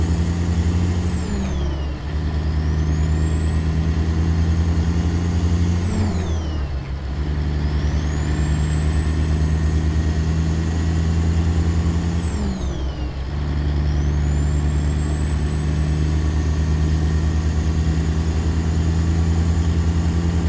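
Diesel engine of a white Freightliner cab-over truck pulling a triple box trailer in American Truck Simulator near Port Angeles: steady loud drone with rising whine as gears shift several times, no speech.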